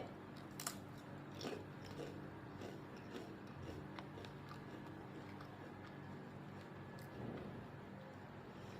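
Extra-long potato chips bitten and crunched close up, with several crisp snaps and chewing crackles spread across a quiet background.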